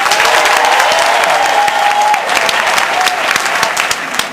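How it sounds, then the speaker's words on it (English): A large theater audience breaks into loud, sustained applause, dense clapping filling the room from start to finish without pause. "By applause. How many of you have been here before?"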